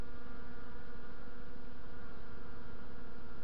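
Honey bees buzzing at the hive entrance on an early spring flight day, workers bringing in pollen loads. A continuous close, even drone of many wings with no voices.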